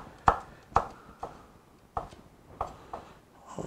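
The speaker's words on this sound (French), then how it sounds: "I'm going to cut it in small pieces." A knife chops garlic into small pieces on a board, giving about ten sharp, close knocks in an irregular rhythm with quiet pauses between them and no talk.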